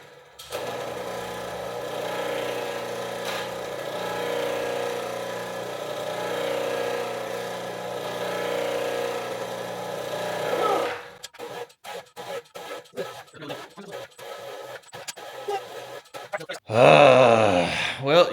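A cheap hydraulic pump for a tube bender hums steadily for about ten seconds as it tries to run, then cuts out into scattered clicks and knocks, with a short strained whine near the end.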